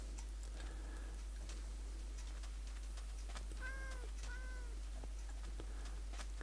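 Cat in the video game Minecraft giving two short, faint meows in quick succession midway, set against quiet ticking clicks and a low steady hum.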